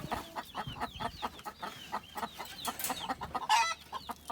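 Chickens cluck in a backyard coop, a busy run of short, repeated clucks and calls close by, with one louder squawk near the end.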